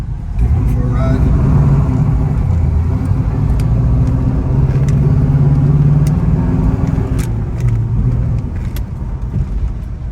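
A 1979 Pontiac Trans Am with a 400 engine and four-speed manual on the move, its engine a loud, steady low rumble that rises and falls slightly throughout, with a voice talking over it.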